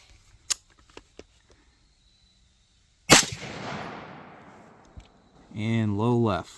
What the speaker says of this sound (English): Just gonna start here real close, 12 yards, take one shot, see where we are